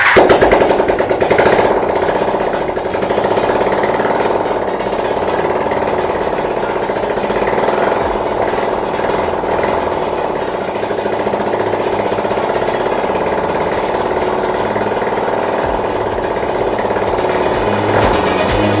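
1978 Honda CB400T motorcycle engine running in a fast, rough, steady rattling chatter, loud and close throughout with no talk.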